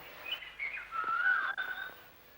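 Children whistle to imitate a bird call: a faint, wavering whistled tone that slides downward and then levels off, with no talking.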